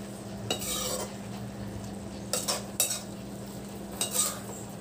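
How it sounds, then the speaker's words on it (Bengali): Ridge gourd and fried prawns stirred together in a pan: a few spaced scrapes and clinks of a utensil over a steady low hum, fairly quiet and close, with no talking. "ভালো করে নেড়ে দিই।"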